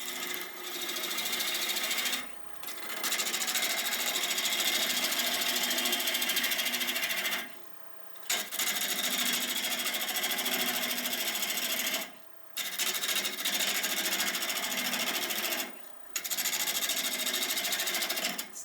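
A small gouge cuts into a natural edge olive wood bowl on the lathe, giving a steady, loud buzzing rasp in long passes broken by three or four short pauses, with no talking.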